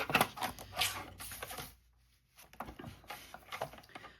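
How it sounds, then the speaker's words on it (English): Paper for a handmade book being trimmed to 6 inches: close, crisp scratching and clicking strokes in short bursts, a brief silent gap, then more cutting noises. "So I'm going to cut it down to 6 inches."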